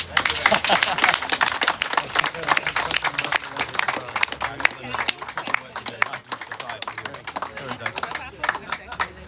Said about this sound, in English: let's have a big round of applause for our man.